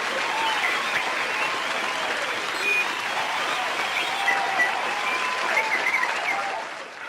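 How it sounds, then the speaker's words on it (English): An audience bursts into steady, dense applause, many hands clapping evenly and fairly close for about seven seconds before easing off slightly at the end. "Everyone give R7 a big round of applause,"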